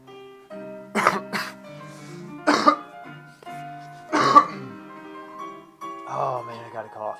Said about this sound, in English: Oh man, I got a cough.